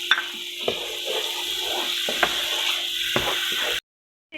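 Korma masala sizzling in oil and water for chana dal korma, a steady frying hiss with a few soft stirring clicks, ending abruptly in silence.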